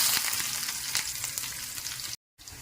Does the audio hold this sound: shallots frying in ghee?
yes